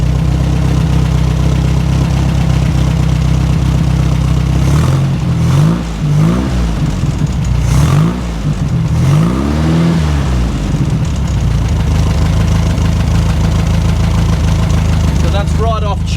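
A 1963 Volkswagen single cab with a 1641 engine idles steadily and loud up close, rising in a few brief revs partway through, with a voice heard over it.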